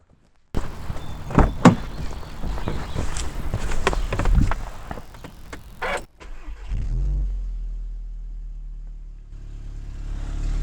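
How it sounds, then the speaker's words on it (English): A Volkswagen Golf R with the Haldex all-wheel-drive system being serviced, where a few seconds of loud clattering and handling noise give way to the engine starting and settling into a steady, low, continuous idle. "at this point, I'm going to start the car"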